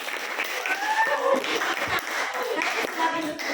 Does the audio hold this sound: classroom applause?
yes